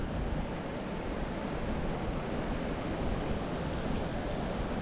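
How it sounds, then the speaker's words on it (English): Fast-moving river water rushing near Tower Fall in Yellowstone National Park, a steady, dense broadband roar that stays loud and unbroken throughout, with no voices. "And that's fast moving water"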